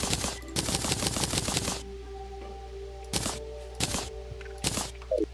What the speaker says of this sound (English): I'm trying to chop down a tree